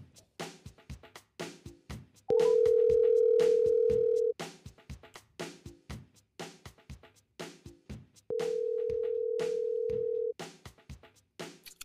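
Telephone line tone while placing a call: two long, steady electronic tones of about two seconds each, separated by a pause of roughly four seconds, with clicks and low voices in the gaps.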